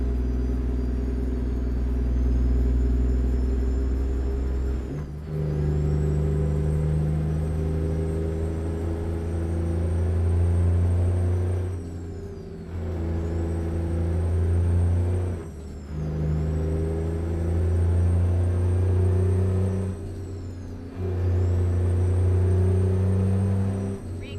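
A Peterbilt truck engine in a trucking video game rumbles low and steady, rising and falling in pitch with short gaps between gear changes, loud and close with no talking.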